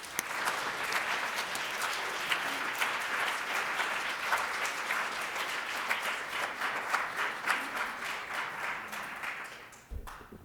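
A lecture audience applauds to welcome Professor John Haynes before his talk on music before humans: sustained, dense clapping from a full room that holds steady for about ten seconds, then fades out.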